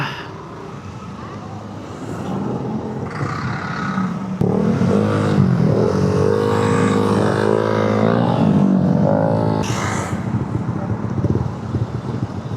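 Heavy street traffic heard from a Yamaha Aerox V3 scooter ride through the congested Taytay Tiangge market area in Rizal, a steady loud engine and road rumble with wind buffeting, while people talk over it throughout.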